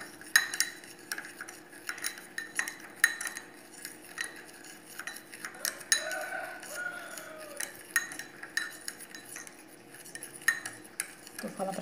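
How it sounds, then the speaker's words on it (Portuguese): A spoon stirs a salt and lemon mixture in a dish, giving repeated close metallic scrapes and clinks against the dish in an irregular rhythm with short pauses, and no talking. "Vai mexendo aí."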